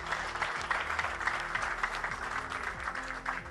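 Audience applause at a talk on collective investment, a steady wash of many hands clapping close by at an even level throughout, with no voices standing out.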